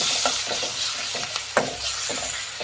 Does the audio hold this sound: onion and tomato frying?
yes